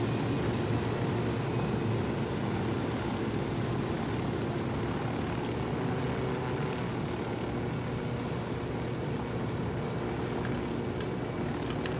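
Steady, continuous drone of an aircraft engine flying in the video game Ghost Recon Wildlands, a broad even roar with no speech over it throughout.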